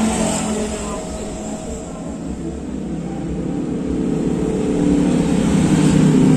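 A Xeon GT motorcycle with a VND aftermarket exhaust idling and revving, a steady close engine drone that builds gradually louder toward the end, with no clear sharp rev peaks.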